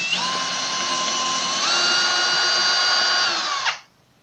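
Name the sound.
drilling into wood with a metal drill bit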